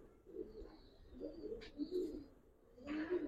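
Giribaz pigeons cooing in soft, low, throaty phrases, several calls close by at a faint level, with a brief higher chirp mixed in.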